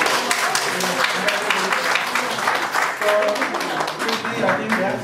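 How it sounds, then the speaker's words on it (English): Applause from the audience at a seminar on artificial intelligence, a dense, steady patter of many hands clapping that fills the room for the full stretch, loud and close, with some voices mixed in. "so let's give a big applause for"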